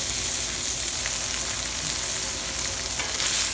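Hamburger steaks sizzle and fry steadily on a hot griddle, a dense, continuous crackle holding close and even throughout.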